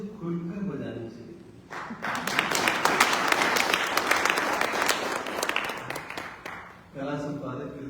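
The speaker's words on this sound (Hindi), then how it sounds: "देखिए, ताली ऐसी चीज है जो खुलकर बजानी चाहिए।" A burst of audience clapping at a Hindi magazine launch event, starting abruptly after a brief bit of talk and running dense for about five seconds before fading as speech resumes.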